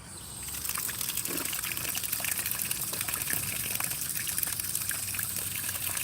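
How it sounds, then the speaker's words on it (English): Water gushes steadily and loudly from a bent outdoor spigot in Japan, a continuous close splashing rush with no pause. "Thank you, Japan, for this water. This bent up spigot."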